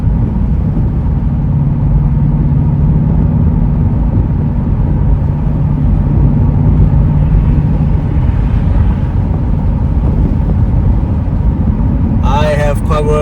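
A Ford Mustang GT California Special convertible with a 5-liter V8 drones steadily as it drives, a low, even cabin hum that continues for the whole stretch, with a brief voice near the end.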